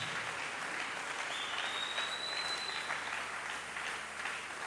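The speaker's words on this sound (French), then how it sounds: "Tusimame juu tupige mikono juu ya Mungu." A church congregation at a Sunday service claps hands together in sustained, dense applause, a steady wash of clapping heard from within the room.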